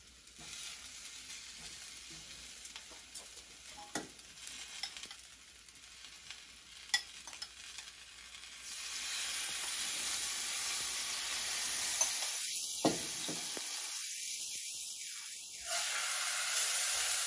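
A tortilla hits a very hot griddle slicked with beef birria fat and sizzles loudly and steadily, the hiss swelling as it settles in, after quieter clicks and scraping of setup; close, with no voices.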